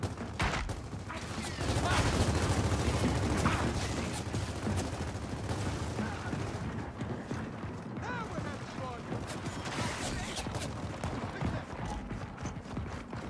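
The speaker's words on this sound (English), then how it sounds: "just keep shooting them" Rapid gunfire from shooting enemies in Gears of War 4 fills the span as a dense, continuous rattle of shots and clatter, loud and close, with game noise layered throughout.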